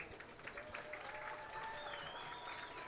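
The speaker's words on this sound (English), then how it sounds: "how about a big round of applause for them?" Crowd applauding senior high school football players at a Highland Hornets versus Cuyahoga Falls Black Tigers game, a steady, moderately distant clapping that holds at an even level throughout.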